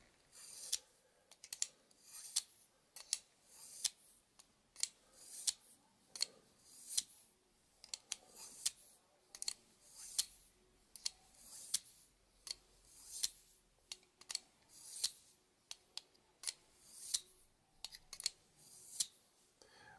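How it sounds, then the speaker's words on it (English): A Tack Life knife blade is drawn across the honing section of a Lansky sharpener, producing a steady series of dry, close scraping strokes with a rhythmic back-and-forth pace and short gaps between passes. "let's take the Lansky and my Tack Life knife. I'm just going to use the honing bit or section."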